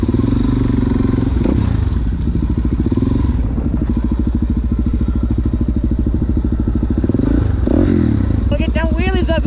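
Motorcycles practicing wheelie stunts, with a steady loud engine drone and revving throughout, plus clatter and thuds nearby while people talk over it.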